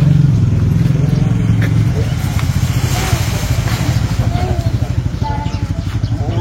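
Motorcycles idle and putter at a remote airstrip in Seko, a steady near engine chug with a clattering throb throughout. Someone speaks briefly over the engines.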